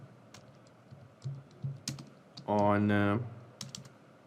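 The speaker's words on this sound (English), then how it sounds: "So I am typing the name here as" Light keystrokes tap on a computer keyboard in scattered, irregular clicks at close range, with a short spoken word in the middle.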